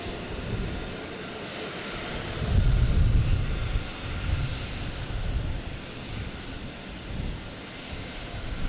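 Delta airliner on landing approach at Boston Logan airport, a broad roaring engine rumble swelling midway then easing off, heard from a distance outdoors with no voices.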